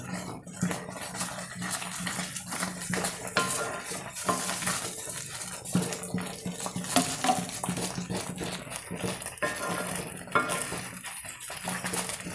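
A spoon stirs tapioca halwa with ghee in a pan, giving repeated scraping and metallic clinks against the pan at close range.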